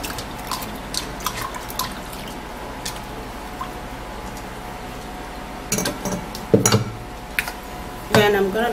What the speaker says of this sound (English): So I'm also going to be giving this a little wash.